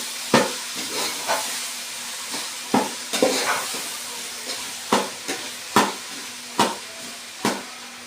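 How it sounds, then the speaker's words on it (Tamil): Potatoes stir-frying in hot oil: a soft hissing sizzle underneath, punctuated by a dozen sharp scraping clatters of the spatula at an irregular pace, close and fairly loud, with no talking. "உருளைக்கிழங்கு எண்ணெயோட சேர்த்து பரட்டியாச்சு."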